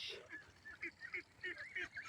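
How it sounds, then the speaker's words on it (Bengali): Domestic ducks at a homestead on the edge of a haor wetland in Gopalpur, Tangail, give a string of faint, short, nasal quacks in an uneven rhythm from some distance away. "এখানে অনেকগুলো হাঁস।"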